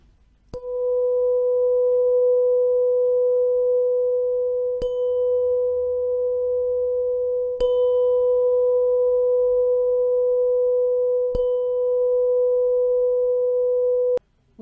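A Solfeggio DNA 528 Hz tuning fork rings with a pure, sustained tone, struck several times at spaced intervals with a sharp tap at each strike, steady and clear without talk.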